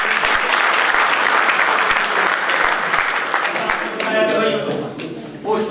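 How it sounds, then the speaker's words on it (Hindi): Loud sustained applause from an audience at a law college moot court event, steady clapping filling the room before fading into a voice and scattered claps near the end. "एक बार जोरदार तालियां।"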